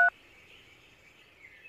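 A brief phone beep or dial tone sounds at the start of a scene in a Telugu comedy short film, followed by a faint steady electronic tone that rings softly in a quiet room.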